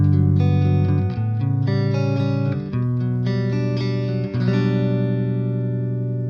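Fender Telecaster played through the clean channel of a Peavey Rage 158 practice amp on modern voicing with flat EQ: bright, sustained clean chords ringing loud and close, changing every second or so, with no voices.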